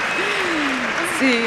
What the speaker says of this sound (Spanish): Era súper obvio y ustedes aplaudieron